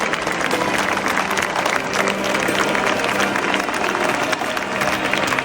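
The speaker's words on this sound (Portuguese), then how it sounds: "Neste momento, claro, todos aplaudem." A large crowd applauds at the canonization Mass of Carlo Acutis and Pier Giorgio Frassati, dense and steady clapping that fills the whole stretch, loud and continuous, with a voice talking over it.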